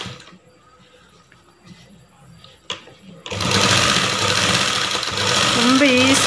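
A sewing machine stitches along a blouse neckline, starting after quiet handling noises and then running as a loud, steady mechanical whir that fills the second half, with faint rises in pitch toward the end.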